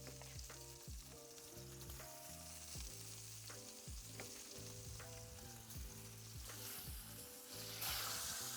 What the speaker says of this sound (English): I'm going to put in a nice big knob of butter.